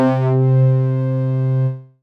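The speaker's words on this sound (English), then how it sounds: "Chorus." A sustained Squid SQ-3 synth tone with a chorus effect, rich in harmonics with a gently shimmering, widened character, holds steady and then fades out.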